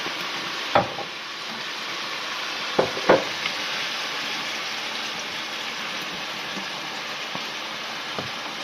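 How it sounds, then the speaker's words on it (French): Bean sprouts stir-fried with sesame oil and soy sauce, a steady broad sizzle in the pan broken by a few sharp utensil taps and scrapes, close and constant throughout. "Ensuite on continue la cuisson pendant 2 minutes en remuant"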